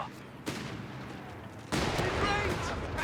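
Artillery barrages in Company of Heroes 3, a match between the Afrika Korps and British forces: two sudden broadband blasts, the second heavier and followed by sustained rumbling battle noise, with a voice talking over the action.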